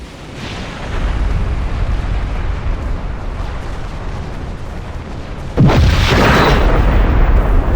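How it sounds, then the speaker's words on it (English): A cascading torpedo explosion in the Star Trek Online space game: a sustained roaring rumble that swells into a louder, sharper burst near the end and keeps booming without letting up. "Man, I sure do love a good explosion."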